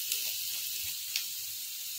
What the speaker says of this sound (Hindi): एक आधा बड़ा चम्मच सॉस, इसको हम भून लेंगे अच्छे से